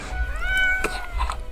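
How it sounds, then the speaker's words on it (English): A cat meows in the video game Death and Taxes, a single drawn-out, clear meow heard up close with no talking over it, followed by a softer second chirp. "The cat! Meow! The cat replies absent-mindedly."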